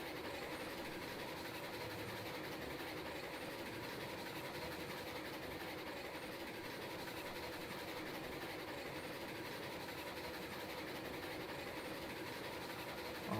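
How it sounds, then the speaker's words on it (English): Steam locomotives in the video game Railroads Online run at partial throttle, producing a dense, continuous rumbling chuff with rolling rail noise at steady loudness and no clear separate beats. "chuffing coming from both ends of the train."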